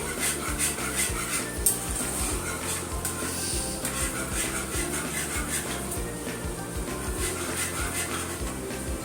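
Spiral cheese pasta stirred in a pan: continuous soft scraping and clinking of a utensil against the metal, steady and close, with a light sizzle and no speech.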